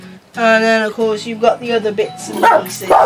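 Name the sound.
dog barking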